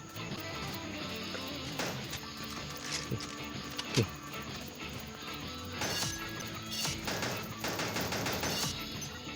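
Gunfire in the mobile shooter Pixel Gun 3D: rapid bursts of shots and sharp impact cracks, fairly close, with one louder bang partway through, over continuous game noise.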